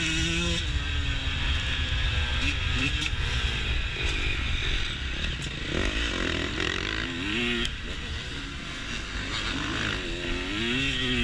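A dirt bike races in an Open B hare scramble, its engine buzzing and revving up and down in close, continuous waves as it rides, with no talking.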